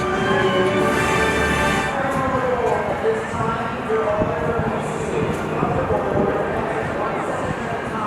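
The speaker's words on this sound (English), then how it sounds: "transfer table is going back and forth" Low mechanical rumbling and grinding of a roller coaster transfer table shifting along its track at SeaWorld Orlando's Ice Breaker construction site, steady and continuous, with faint voices in the background.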